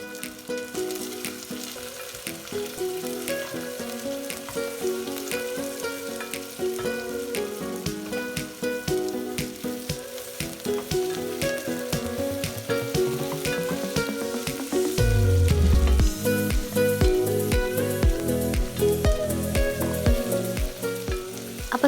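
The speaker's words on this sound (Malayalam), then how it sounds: "ഒരു സവാള സ്ലൈസ് ചെയ്തതും 1 ടേബിൾ സ്പൂൺ ഇഞ്ചി സ്റ്റിക്സ് ആയിട്ട് അരിഞ്ഞതും അതും കൂടി ചേർത്ത് നന്നായി വഴറ്റിയെടുക്കണം" Sliced onion and ginger sticks sautéing in a pan for a Kerala-style vegetable stew make a continuous bright sizzle with occasional stirring, over steady background music.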